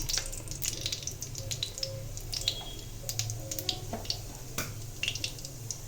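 White cumin seeds crackling and spluttering in hot oil in a kadai, a close run of light, irregular pops and wet ticks over a low background hum, with no talking.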